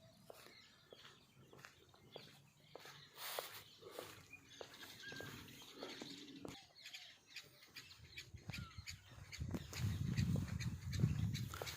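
Dogs bark faintly in the distance outdoors on a foggy village morning, with birds chirping and a low rumble growing toward the end.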